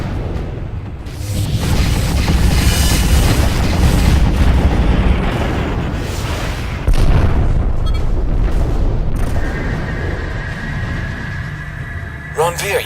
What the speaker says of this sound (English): Engaging with main guns.